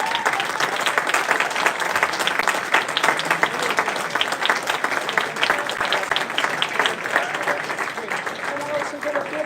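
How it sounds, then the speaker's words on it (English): An audience at a university moot court competition round applauds with dense, steady clapping throughout, mixed with murmuring voices. "I'm also going to give a round of applause to the University of Versailles."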